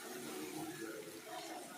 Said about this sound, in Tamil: தேவையான அளவு தண்ணி சேர்த்துக்கலாம்